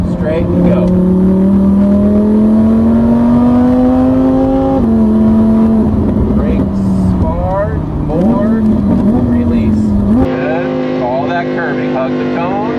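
A Lamborghini supercar engine drones steadily and rises slightly in pitch as it accelerates on a driving course, loud and continuous throughout, with the tone dropping once partway and an instructor's voice talking over it.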